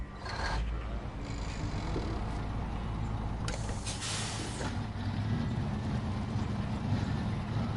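A modded truck engine in the SnowRunner video game, on PS5, heard as a steady low rumbling drone with a couple of brief hissing bursts like air release, continuous and fairly loud, with no talking.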